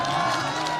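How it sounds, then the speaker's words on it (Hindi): A student crowd at Maharaja College in Jaipur, Rajasthan, claps and cheers for a university vice-chancellor, a brief, dense wash of applause with faint voices mixed in. "जोरदार तालियां हो जाए एक बार"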